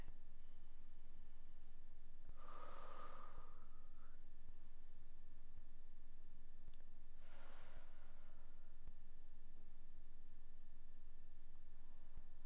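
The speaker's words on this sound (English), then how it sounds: "Let's give ourselves 3 breaths here." Two slow, deep breaths held during a yoga downward dog pose, each a soft breathy exhale a few seconds apart, faint and close against near silence.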